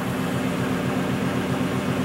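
Free energy project driver motor running at high speed, a steady loud whirring hum with a constant low drone and broad noise, no pauses throughout.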